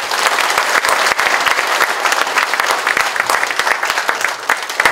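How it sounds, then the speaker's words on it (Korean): Sustained, dense applause from a lecture audience after a Korean author's talk at a university forum, steady and fairly loud for the full stretch with no speech over it. "다시 한번 조정래 선생님께 뜨거운 감사의 박수 부탁드립니다."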